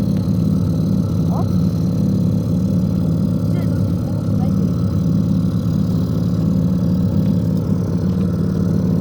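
A steady, low motor drone runs unchanged throughout, a boat engine held at a slow, even trolling speed on a small river while fishing for pike.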